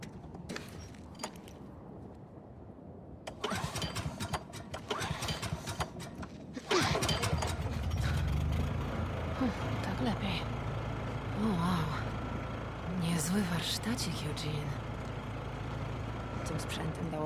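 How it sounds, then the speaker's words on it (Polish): A generator engine in a Los Santos GTA game sputters and catches partway through, then settles into a steady, droning run; scattered clicks and talking come before it and continue over the hum. "mam agregat"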